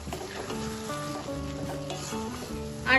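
A banana flower and prawn fry is being lightly stirred in a pan, with soft utensil scrapes and gentle frying over a quiet sizzle and a brief louder scrape at the end.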